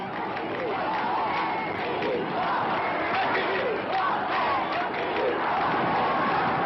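A large crowd of civilians and soldiers cheers for De Gaulle in Algiers in 1958, a dense, continuous roar of shouting voices in an old archive recording.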